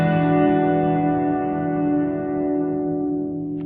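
A NUX MG-300 multi-effects reverb on electric guitar: a sustained chord rings in a thick, echoing wash that decays slowly over several seconds, with a faint click near the end.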